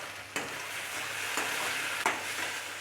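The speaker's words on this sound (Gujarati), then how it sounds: "અને બસ ટોસ કરવાના છે હવે ચણા" Crispy kabuli chickpeas tossed in a pan with the flame off, a soft continuous sizzle broken by three sharp clattering tosses, close and quiet, no voices.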